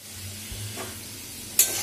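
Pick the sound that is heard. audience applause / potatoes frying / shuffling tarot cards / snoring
potatoes frying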